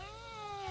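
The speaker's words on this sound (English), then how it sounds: "Clouded leopards also growl, hiss, meow" A clouded leopard gives one drawn-out, tonal meow-like call, close and clear with nothing else around it.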